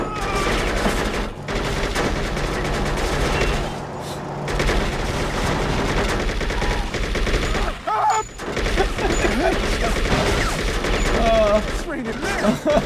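Gunfire in the open-world crime game True Crime: New York City: dense, rapid bursts of shots and booms fired almost nonstop, loud and close, with brief gaps between volleys and a voice talking at times in between.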